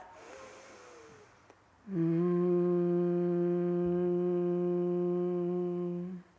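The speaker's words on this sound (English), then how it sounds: "we'll exhale with the lips closed with a humming sound" A breath is drawn, then a long steady Brahmari pranayama hum through closed lips holds for about four seconds before fading out.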